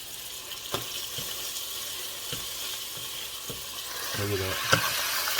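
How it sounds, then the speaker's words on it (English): Tomatoes sizzle and fry in a pan, a steady crackling hiss with occasional clicks and stirring knocks, faint and alone. "So we're gonna put the tomatoes in now."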